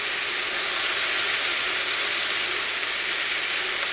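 Onions sizzle in butter and oil in a hot pan, a steady bright hiss that holds evenly at moderate volume with no voices over it.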